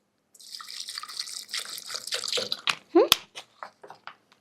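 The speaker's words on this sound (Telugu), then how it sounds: "ఇందులో కొంచెం వాటర్ వేయండి" Water poured into a drink mixture before blending, heard as a close splashing, trickling pour that builds over a few seconds, then settles into scattered drips and small clinks.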